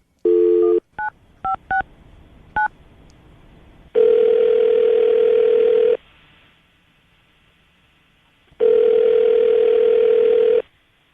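A burst of touch-tone dialing beeps, then two long ringback tones with a silent gap between them, loud and clear over a phone line.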